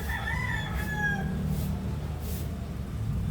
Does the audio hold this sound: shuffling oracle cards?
no